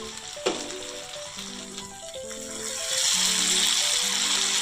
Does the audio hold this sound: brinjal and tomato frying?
yes